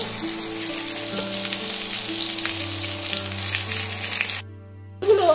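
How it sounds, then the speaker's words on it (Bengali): Potato pieces fry in hot oil in a kadai for a Bengali malai curry, giving a loud, steady sizzle close up with an occasional stir, before the sound abruptly drops away and returns near the end. "এই মালাইকারির আলুটা যত সুন্দর করে ভাজা হবে মালাইকারির স্বাদ দ্বিগুণ বেড়ে যায়।"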